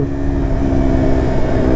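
A KTM Duke 125 motorcycle, a 2020 125 cc model, runs with a steady, loud engine drone under load, its tone holding fairly even across the short stretch with no voices.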